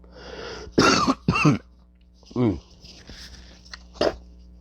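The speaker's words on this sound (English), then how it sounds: "I've been coughing up mucus" A person with a cold coughs several times in rough, throaty bursts, with a throat clearing and a pause between the harsh coughs, close and loud.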